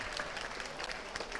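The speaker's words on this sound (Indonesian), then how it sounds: "Tepuk tangan buat Pak Jabir." An audience claps steadily and densely at a provincial anniversary plenary session in South Sulawesi, the applause sustained and fairly even throughout with no talk over it.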